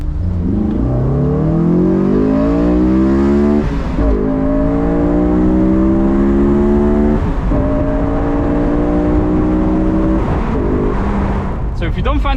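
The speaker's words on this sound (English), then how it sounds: "it then makes the car sound like this" A Honda S2000 with its airbox removed revs through several rising gear pulls, its induction howl loud and close with brief dips at each shift.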